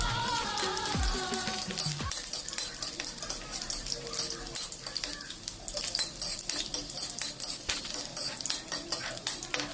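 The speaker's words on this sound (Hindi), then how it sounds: "अब इसमें तड़के में डालेंगे लहसुन और सूखी लाल मिर्च।" Garlic and dry red chilies tempering in hot oil in a kadai, a steady crackling sizzle with metal spoon scrapes and stirring clatter at close range.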